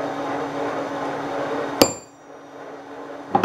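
Two sharp metallic hammer strikes on a center punch into soft metal, one near the middle and one at the end, over a steady background hum in a workshop.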